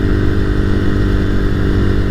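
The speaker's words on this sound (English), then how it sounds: "one thing I have modified on this bike is the exhaust" Motorcycle engine with its exhaust modified and the pre-exhaust chamber removed, running in a steady, loud, low rumble with a rough, throaty texture throughout.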